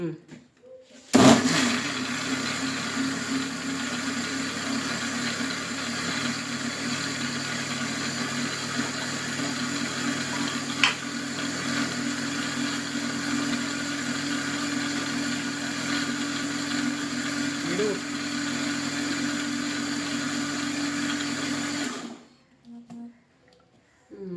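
A kitchen mixer grinder whirs steadily and loudly for about twenty seconds while blending jackfruit cake batter, then stops abruptly.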